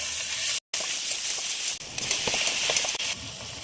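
Tomato, green chili and salt hissing and sizzling steadily in a hot pan while being stirred, a loud close frying sound with one brief gap near the start.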